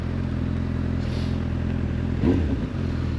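Honda CB 1000 Hornet SP motorcycle from 2025 riding along, a steady engine drone with a brief louder burst partway through, recorded close with no talk.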